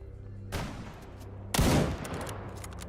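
Gunfire in the S.T.A.L.K.E.R. GAMMA video game: two separate shots about a second apart, the second louder and booming. There is no talk.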